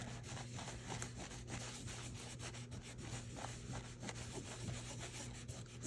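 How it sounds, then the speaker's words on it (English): Ink is rubbed off embossed paper in quiet, continuous, close-up scrubbing strokes, a soft papery rasp with no voices. "I think I need to go in and give them a good rub to make sure that there's no ink on the embossing"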